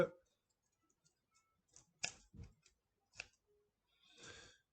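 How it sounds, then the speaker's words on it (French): A few sparse scissor snips and clicks separated by silence, close up, ending with a longer rustling scrape as adhesive tape is cut. "Je vais découper mon petit bout de scotch."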